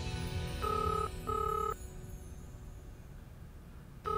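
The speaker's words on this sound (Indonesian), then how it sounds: "Ibu jawab teleponnya, Bu." An indoor telephone rings in a TV drama with two bright electronic trills in quick succession, and a third begins at the end. A steady low room hum sits underneath.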